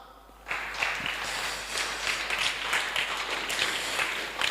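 An audience at a Sunday church gathering bursts into applause, a dense, sustained clapping that starts abruptly after a quiet moment and holds steady and fairly loud to the end.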